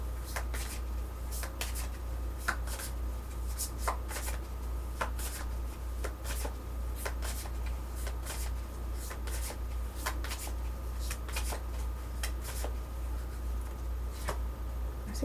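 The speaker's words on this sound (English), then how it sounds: "let me go ahead and shuffle the deck" A deck of tarot cards is shuffled by hand in steady, crisp riffling bursts at close range, with soft taps and no talking.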